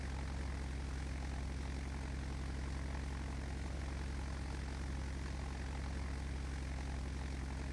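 Spitfire WWII fighter in Flight Simulator X, its propeller engine droning steadily and loudly throughout with no letup.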